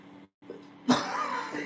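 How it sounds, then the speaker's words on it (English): A single harsh cough bursts out after a short pause, loud and close, trailing into rough breathy noise. "I just wish I could stop coughing"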